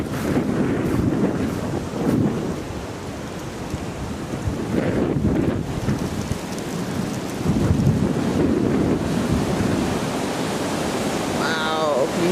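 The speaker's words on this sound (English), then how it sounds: "Can you hear that? That's pretty windy." Strong storm wind gusting outdoors among trees during a power cut, a loud, continuous roaring buffet against the microphone that swells and eases without a break.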